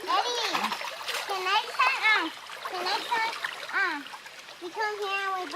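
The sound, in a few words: child splashing in brook water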